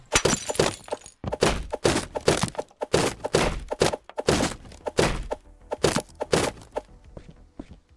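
Smashing things apart in the Sunset Motel game, with loud repeated crashing hits and breaking debris in quick clusters, continuing steadily before thinning out near the end.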